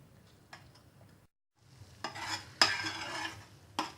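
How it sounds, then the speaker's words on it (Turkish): A spoon stirs butter into lentil soup in a pot, giving soft scraping and a few light clinks, with a short silent gap before louder stirring strokes and a faint sizzle. "tereyağımızı ilave edelim ve karıştıralım"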